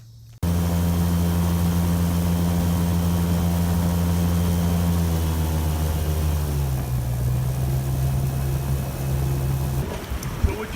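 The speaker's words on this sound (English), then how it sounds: "That's a big motor back there, kind of like a big train engine." A large diesel engine idles loudly and steadily with a deep, rumbling hum, its pitch dropping slightly midway before cutting out near the end, heard in New Orleans.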